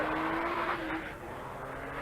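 A Porsche Carrera rally car on a hillside stage near Clonmel, Ireland, in the 1976 Circuit of Ireland roars past with its engine loud at first and then fading.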